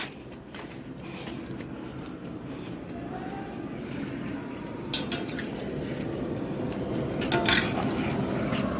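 A cook prepares chicken chaap at an outdoor birthday celebration, with pots and utensils clattering and scraping close by, repeated clinks over a steady background murmur that grows a little busier toward the end.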